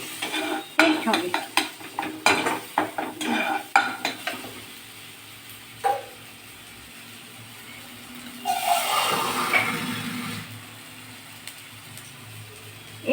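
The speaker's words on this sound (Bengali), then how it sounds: "যত মশলাটা কষাবো তত টেস্ট বাড়বে, টেস্ট হবে।" Spice masala for egg curry is stir-fried in a pan, with quick, rhythmic metallic scrapes and clinks of the spatula over a soft sizzle, pausing before a longer frying hiss.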